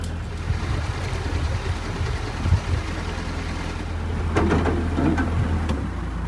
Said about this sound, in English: That noise you just heard was debris underneath the boat.